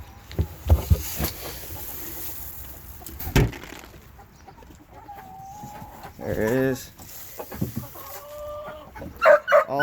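Chickens cluck and chatter close by in uneven bursts, with rustling movement and a brief spoken remark in between.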